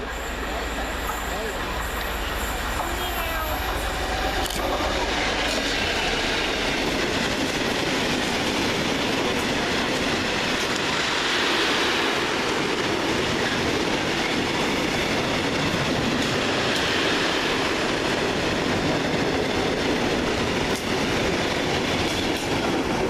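A class 66 locomotive, 66003, hauling a steel freight train past Stourbridge Junction station, a loud continuous roar of wheels and wagons with clickety-clack and faint squeals running the whole time, voices faintly underneath.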